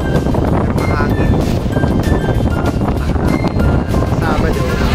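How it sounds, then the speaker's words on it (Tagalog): Wind gusting at an outdoor garden cafe in Binangonan, Rizal, a constant loud blustery rumble buffeting the microphone throughout, with faint voices under it. "Mahangin."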